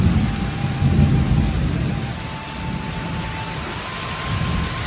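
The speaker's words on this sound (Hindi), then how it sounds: "हमारे गांव में देखो कितना मस्त बारिश होती है" Steady village rainfall patters continuously, with a soft low rumble underneath and no voices.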